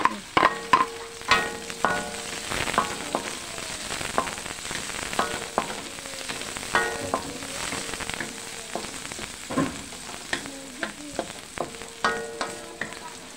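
Chopped onion frying in a pan while making batchoy, a steady sizzle broken by frequent sharp spatula scrapes and clinks, close and moderately loud, with no talking.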